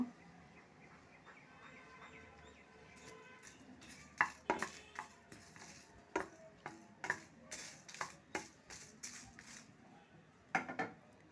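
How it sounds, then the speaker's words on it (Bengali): Cumin and coriander seeds being stirred in a dry pan for garlic pickle, a string of sharp scraping and clinking strokes in an uneven rhythm, close and fairly quiet with short pauses between. "দিয়ে দেব 1 টেবিল চামচ জিরা, নিয়ে একটু নেড়ে চেড়ে নেব।"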